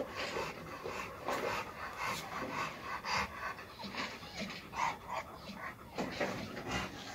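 Dog panting and giving a few short barks and whimpers, close by, with busy rhythmic breathing throughout and a person talking intermittently underneath.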